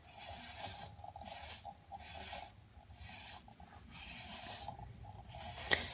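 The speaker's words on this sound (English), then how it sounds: "Just applying it with a microfiber towel." Finish is wiped onto a wooden segmented bowl with a microfiber towel, producing rhythmic soft rubbing swishes in about six strokes, fairly quiet and close.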